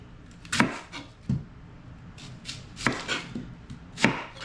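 A knife chops through an onion on a cutting board, with a few sharp, separate cuts spread irregularly, each a close, crisp thud with a brief crunch, and no voices.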